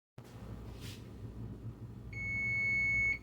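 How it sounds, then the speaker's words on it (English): A kitchen timer set during a pressure canning session for meatless spaghetti sauce gives a single sustained, piercing beep that begins partway through over a low, steady room hum. "my timer's going off"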